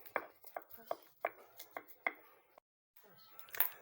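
Spice paste being ground by hand in a mortar with a pestle: a steady series of sharp, close knocks and scrapes at a brisk, fairly regular rhythm, with a short pause near the end and a brief voice.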